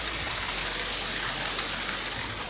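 Steady broadband rush of water flowing from a mountain spring in the Pyrenees, close and continuous with no voices over it.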